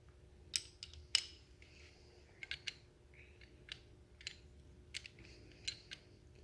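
A 15 millimeter wrench works a fitting on a Milwaukee M12 grease gun, giving quiet, close metallic clicks and ticks spaced irregularly over near silence.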